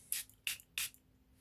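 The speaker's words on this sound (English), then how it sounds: "we're going to spray a bit of Brute on there" Three short, sharp hisses of a Brut fragrance spray in quick succession, close and crisp, with quiet in between.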